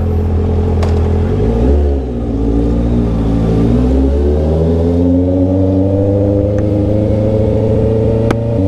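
Honda CB650R motorcycle engine and loud muffler droning steadily up close, with a dip and rise in pitch as the revs change, running alone without talk.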